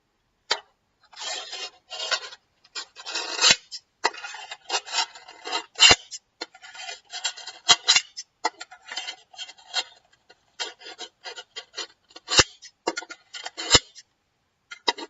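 Scissors are worked through a Fiskars scissor sharpener, giving short bursts of dry rasping and scraping strokes in uneven clusters, close and fairly quiet against silent gaps.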